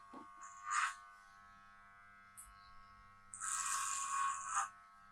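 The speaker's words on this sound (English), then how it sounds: "You need to always move the clipper slow because the blade moves fast and that will cut the hair" An electric hair clipper cuts a child's hair at home, giving a soft, thin buzz in short bursts, one brief pass early on and a longer stroke near the end, quiet and close with no speech.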